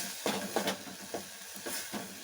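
Pepper rasam ingredients fry in a pan, a soft sizzle broken by a few scraping stirs at an uneven rhythm, close and fairly quiet with no voices.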